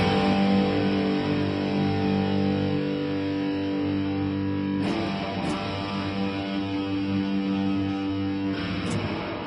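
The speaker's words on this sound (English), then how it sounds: "that sound similar to what happens if somebody just punches the top of an amp with a reverb tank" An electric guitar sustains a distorted, effects-laden chord, then crashing spring-reverb bursts slam in twice like a struck amp reverb tank. The sound is loud and alone, with no voices.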